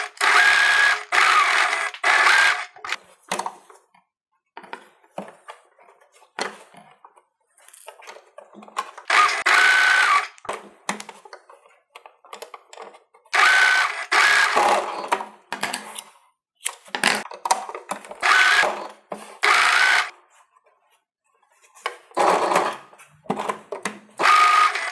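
A domestic sewing machine stitches fabric for a face mask in repeated loud bursts of rapid mechanical whirring, separated by short quiet pauses throughout.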